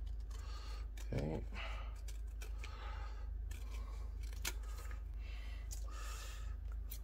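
Scissors snip through cardstock parts of a model rocket kit: repeated small cuts and paper rustles, close and faint against steady background hiss.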